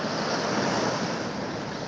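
Sea surf rolling in at RK Beach in Vizag, a steady, loud wash of breaking waves with wind rushing across the microphone, continuous throughout without any voices.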